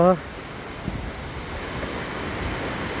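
Constant rushing roar of a waterfall, broad and steady, with a brief voice at the very start and gusty wind noise.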